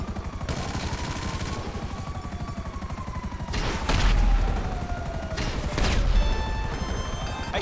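Rapid automatic gunfire in GTA 5 crackles steadily through the whole stretch, with two heavier bursts standing out midway and near the end, loud and close with a faint whine running underneath.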